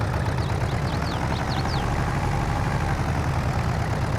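A tractor engine in Farming Simulator 22 strains to pull a big heavy trailer, giving a steady loud low drone with a continuous rumble and brief faint high chirps early on.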